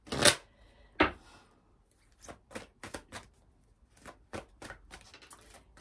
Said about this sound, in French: on va prendre quelques cartes de l'oracle Cœur de Lune